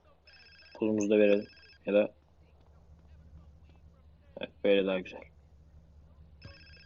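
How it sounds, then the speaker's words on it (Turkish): A phone in the GTA San Andreas video game rings in short, bright electronic bursts at the start and again at the end, while someone speaks in between, his voice louder than the ringing. "Cevap vermek istemiyorum şu anda telefona."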